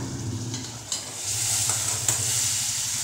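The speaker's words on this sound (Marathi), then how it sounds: "याच्यात हे जे काही गरम केलेलं दूध आहे गरजेनुसार टाकायचं" Hot milk is poured and stirred into rajgira (amaranth flour) sheera in a pan, giving a steady close sizzle with soft stirring scrapes and a couple of brief clinks, with no talking.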